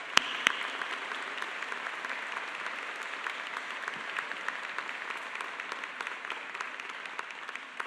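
Sustained applause from a commencement audience at a 2022 graduate ceremony, a steady dense wash of many hands clapping at even loudness throughout, with a couple of sharper claps near the start.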